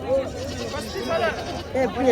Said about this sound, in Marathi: तीन पिल्लीवाली शेळी आपल्या परभणीच्या खंडोबा शेळी बाजारामध्ये आलेली आहे